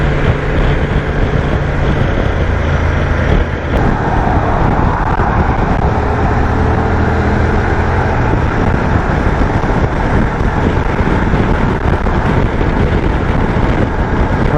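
A Honda Transalp XL 750 motorcycle cruises at 60 mph, its engine drone buried in loud, constant wind roar and road noise that holds steady throughout.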